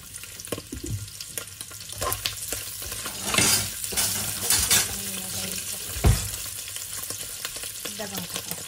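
Pork intestines fry in hot oil for dinuguan, giving a steady crackling sizzle with stirring scrapes and a few sharper pops, close and fairly loud, with no talk.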